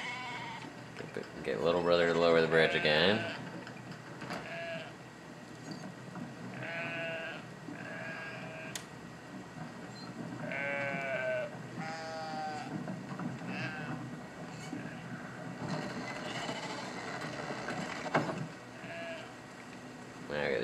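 Sheep bleating in the video game Two Brothers, several wavering bleats spread through the scene alongside someone talking over game sounds.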